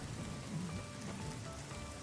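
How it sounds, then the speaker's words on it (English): Rain falling in the video game Fallout New Vegas, a quiet, steady hiss of drops on surfaces that stays faint and even throughout, with no voices and no thunder. "Hopefully this is the not loud rain."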